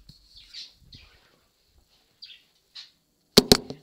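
A pet budgie gives a few faint, short chirps spaced across a quiet room, followed by two loud, sharp knocks close by at the end.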